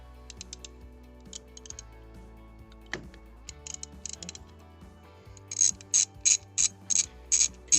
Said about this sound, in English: the tool used to remove them is a T30 torque